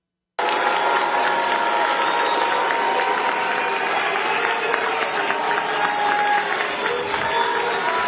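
A large crowd boos continuously with mixed shouting and jeering, loud and sustained throughout, without a single clear voice standing out.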